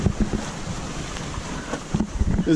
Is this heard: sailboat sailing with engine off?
yes